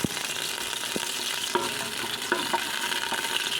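Oil and butter sizzle steadily in a hot pan with a constant crackling fry, close and fairly loud, with occasional faint pops.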